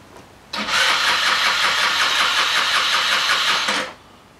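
A cheap Chinese GY6 scooter engine, not starting, cranks on its starter motor for about three and a half seconds, a loud, close, steady mechanical whirring that then cuts off.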